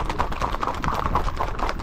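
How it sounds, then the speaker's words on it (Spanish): Horse hooves clip-clop in a quick, even trot at a paso fino street ride in Yauco, Puerto Rico, steady and fairly close, with faint voices behind. "Caballito bueno"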